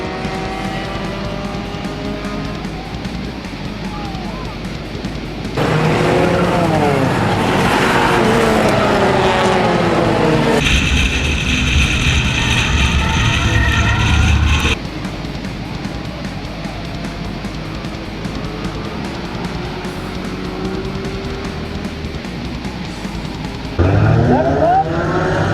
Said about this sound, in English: This 83 car is going to crash by itself.